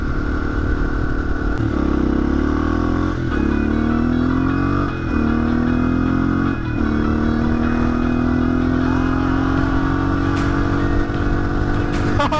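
A motorcycle engine drones steadily while riding, its pitch climbing through several gear shifts as it accelerates, loud and close throughout.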